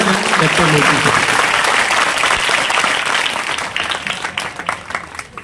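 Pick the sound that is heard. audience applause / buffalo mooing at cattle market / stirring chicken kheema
audience applause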